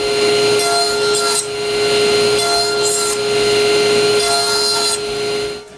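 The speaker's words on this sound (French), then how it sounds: "Je coupe un morceau de bois à bonne largeur, puis à bonne longueur." A piece of wood is cut to width with a saw in a workshop. The close strokes come in several bursts with brief pauses between them, over a constant tonal hum.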